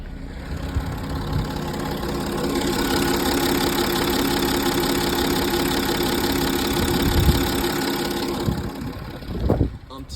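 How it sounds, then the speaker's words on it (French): A Peugeot/Citroën (PSA) V6 HDi diesel engine idles with a steady, even, close-up rumble for the whole stretch, then a short louder clatter near the end. "on voit bien que le moteur est au ralenti"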